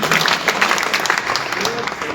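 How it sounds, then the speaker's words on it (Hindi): A crowd at a Hindi-language political gathering claps loudly and steadily to cheer on a team, with a voice faintly audible underneath. "एक बार जोरदार तालियों से आप टीम का हिस्सा बढ़ाएं।"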